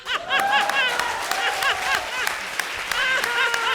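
A studio audience at a comedy talk show applauds in a warm, continuous wash of clapping, with scattered chuckles and a voice talking over it.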